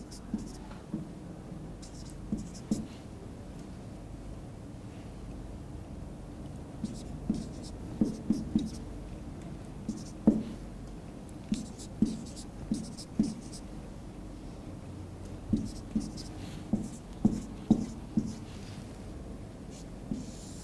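Handwriting on paper while an accounting exam question is copied out, a soft steady scratch broken by frequent small taps and strokes, close and fairly quiet, with no talking over it.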